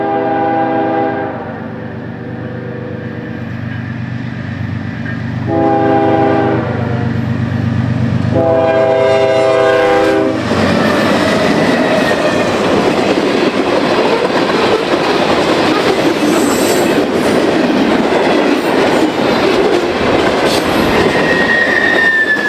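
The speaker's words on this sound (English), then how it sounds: "Following Amtrak is NS Train 34J, a daily train originating at the IHB's Blue Island Yard" Norfolk Southern freight train 34J, a daily run from Blue Island Yard toward Elkhart, Indiana, sounds its horn several times in long blasts before rumbling past close by with loud, steady wheel noise.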